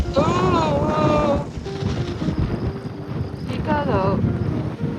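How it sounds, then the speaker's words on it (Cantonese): Strong wind buffets the microphone outdoors at a temple site in Taiwan, a loud continuous rumbling roar throughout, while people talk through it. "超大風。"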